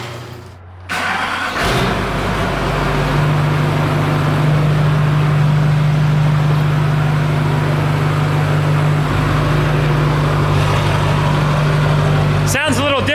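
A Duramax diesel pickup truck with a large turbo cranks briefly, fires up loud and close, then settles into a steady, rumbling diesel idle. Voices talk over the engine near the end.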